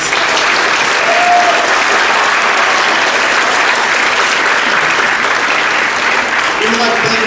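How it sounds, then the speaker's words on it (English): An audience at an honor society induction ceremony applauds with sustained, loud, even clapping that fills the whole stretch, with faint voices mixed in near the end. "one more round of applause for our national honors"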